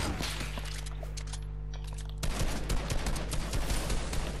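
AK rifle gunfire in a shooter game, an opening burst of sharp shots over a low steady hum, a short lull, then another rapid volley of close shots.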